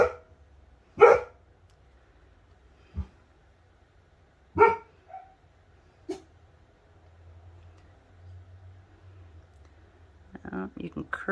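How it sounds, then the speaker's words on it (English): Several dogs bark in short separate bursts, a few loud and close and others fainter, spread over a quiet stretch with a soft low hum beneath and some clicking near the end. "Neighbors' dogs are barking, and so of course mine have to talk back"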